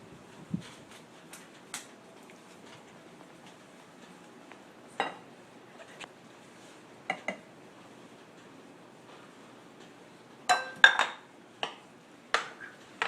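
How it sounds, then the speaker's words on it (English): A spoon scrapes and clinks against a pot while stirring roux into turkey pot pie filling, scattered soft knocks, quiet between them, with a cluster of sharper clinks near the end. "we're going to mix our roux in here as well"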